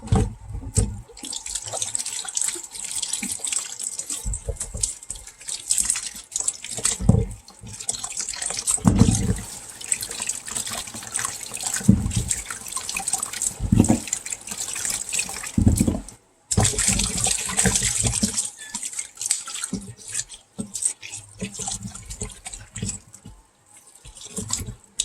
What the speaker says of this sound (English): here we have in our sink, we're going to rinse off all of these